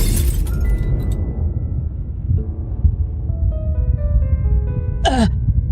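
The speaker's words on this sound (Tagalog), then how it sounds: "Saan nang galing ang pagsabog na yon?" An explosion sound effect in a horror story narration of an aswang tale: a loud, deep rumbling blast set at a farm during a village fiesta, sustained low roar with a sharp high burst near the end.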